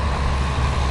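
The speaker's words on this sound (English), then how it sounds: "Oh, here comes the garbage truck." A JJ Richards garbage truck rolls past in the Queensland outback, giving a loud, steady, broadband engine and road roar that fills the whole brief moment.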